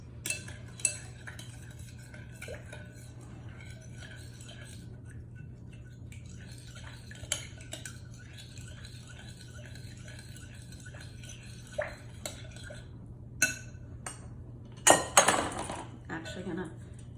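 Dry and wet baking ingredients mixed together in a bowl, with scattered clinks and knocks of a utensil against the bowl and a louder clatter near the end, over a quiet background hum.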